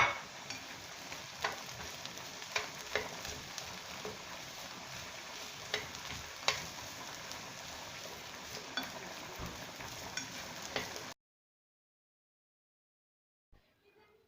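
Aubergine sizzling and frying with golden onions in a pan, a steady close crackle with scattered sharp pops and stirring ticks for about eleven seconds, then near silence with a faint clink at the end.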